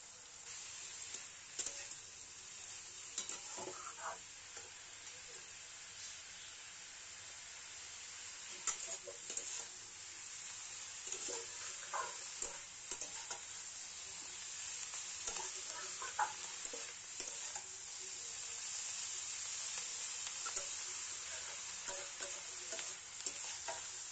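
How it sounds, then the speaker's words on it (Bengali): Leafy cabbage greens stir-fried in a pan with already-fried onions: a continuous close sizzle broken by repeated scraping and tossing stirs, with no talking. "পেঁয়াজটা ভাজা ভাজা হয়ে গেছে, তো এবার শাকটা আমি দিয়ে দিলাম, দিয়ে ভালো করে মিক্স করে নেব।"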